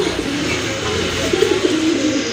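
A pair of large yellow Bombay pigeons coo at close range in a low, throaty burble, with a broad background hum from a busy bird market.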